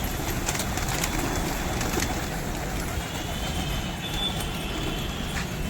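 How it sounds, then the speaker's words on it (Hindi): A flock of pigeons coos steadily while leaving their loft, with scattered bursts of wings fluttering close by. "ये देखिए कबूतर ठाटर से निकल रहा।"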